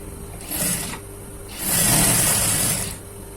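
A sewing machine stitches along the middle of a folded, rolled button strip in two short whirring runs, the second longer and steadier, close and fairly loud.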